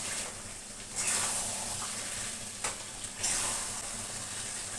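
Chicken curry sizzling steadily in a pan as cardamom and cinnamon paste and a little gravy are added, a continuous close frying hiss with brief louder spits.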